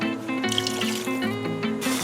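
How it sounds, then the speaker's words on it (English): Water poured from a tap into a pot of geera tofu cooking on the stove, a steady splashing rush that runs throughout over a background of music. "I'm just going to add a little more water."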